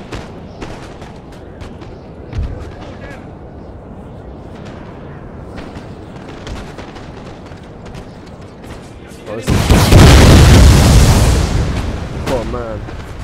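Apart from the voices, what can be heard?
grenades exploding in the video game Napoleon: Total War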